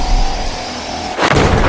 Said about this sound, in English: The sunbeam gets obliterated by the cannon.